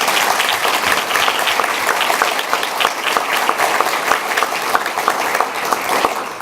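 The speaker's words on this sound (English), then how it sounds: "And so let's start with a round of applause" A banquet-hall crowd at a school district employee retirement dinner breaks into sustained applause, loud, even and crisp, with individual claps crackling through the dense wash for several seconds.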